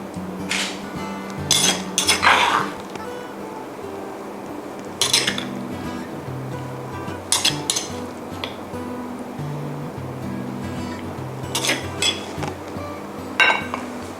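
A spoon clinks against a bowl while mushroom chili paste (nam prik) is served, giving scattered light metallic taps in small clusters over a steady, soft background hum.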